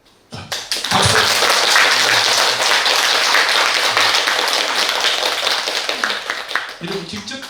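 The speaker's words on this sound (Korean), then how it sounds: "박수." Loud, sustained audience applause at a Buddhist precepts ceremony in a hall, rising abruptly and holding steady for several seconds before tapering off, with many hands clapping densely together.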